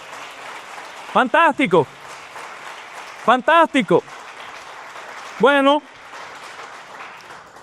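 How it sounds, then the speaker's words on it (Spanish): A church congregation claps and cheers during a sermon, a steady wash of applause running under a preacher's short bursts of excited speech. "Alguien déle un aplauso al Señor por Romanos 8."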